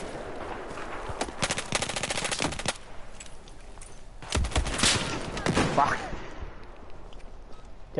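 Rapid automatic gunfire in a shooter video game, sustained bursts of loud close shots with a pause between volleys, over a noisy background with players chatting.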